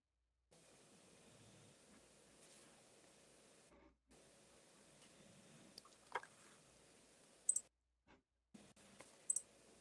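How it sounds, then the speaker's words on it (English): Faint clicking from a participant's end of a voice call, with a few sharp, isolated clicks and ticks scattered over a quiet, hissy line broken by brief dropouts. "Oh, I can hear you clicking."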